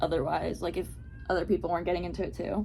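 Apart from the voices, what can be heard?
cat meowing loudly at the door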